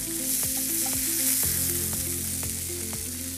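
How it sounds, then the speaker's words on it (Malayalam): Marinated okra grills in hot oil, the same oil just used for fish, during a Kerala TV cooking show. It gives a steady, close sizzling hiss over soft background music. "അതേ എണ്ണയിൽ നമ്മൾ ഈ മറിനേറ്റ് ചെയ്ത വെണ്ടയ്ക്കയും കൂടെ ഗ്രില്ല് ചെയ്യുന്നു."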